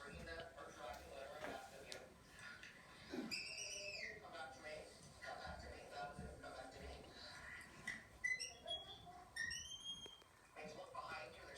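Short whistled phrases, rising and falling, come in a few separate bursts over a background of people talking.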